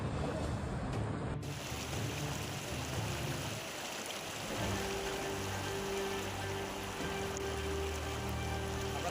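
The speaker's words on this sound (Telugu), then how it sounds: "బ్రిడ్జిలపై నుండి భారీగా వరద నీరు ప్రవహిస్తుండటంతో" Heavy floodwater pours over a bridge on a swollen stream, a steady loud roar and rush of water that carries on without pause from start to finish.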